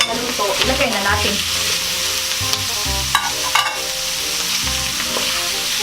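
Ground beef frying in a pan for spaghetti sauce, a continuous hiss and sizzle broken by several low stirring scrapes and knocks, close and fairly loud, with no talking.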